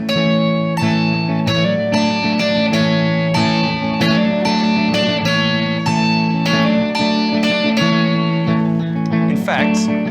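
Electric lead guitar riff, looped over and over. Bright, sustained notes carry a dense, steady tone with regular rhythmic picking. It is loud and continuous, with a brief scrape near the end.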